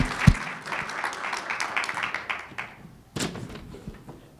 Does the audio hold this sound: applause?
yes